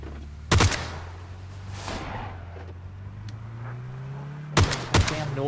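Gunfire in the shooter game PUBG on PS5: a couple of sharp close shots, a pause over a low steady engine-like drone, then two more loud bursts near the end.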